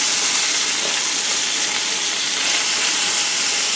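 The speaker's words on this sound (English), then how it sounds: "place your lobsters in it. And you're gonna hear that sizzle." Lobster searing in a hot pan while making lobster mac and cheese, a loud continuous sizzle and hiss with no talk.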